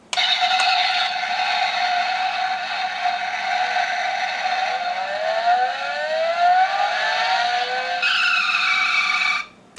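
A toy model car's built-in sound effect plays an engine start and revving sequence with skidding-like tones, loud and continuous for about nine seconds before cutting off.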